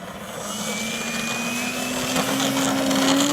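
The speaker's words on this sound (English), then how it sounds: "San Luis Obispo is flying their airplane manually across the airfield" A small remotely piloted airplane flown by hand across an open airfield during a UGV and UAV demonstration, its engine drone holding steady and rising slightly in pitch as it passes, with broad outdoor noise and no voices.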